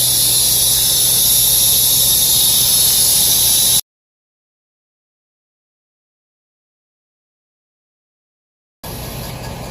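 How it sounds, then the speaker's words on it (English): Airlift 7500XL air bags on a 2017 Ford F350 venting pressure, a loud steady hiss with a high squeal lasting about four seconds, then silence before a shorter hiss resumes. "you will be able to hear whenever I reduce pressure. So I'm going to drop it down to 5 psi"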